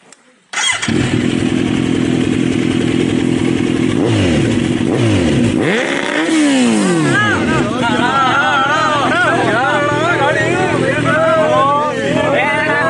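A 2020 Kawasaki Z900 motorcycle fires up nearby after a moment of quiet, then revs repeatedly with rising and falling engine sweeps and a loud, continuous roar, while people talk in the background.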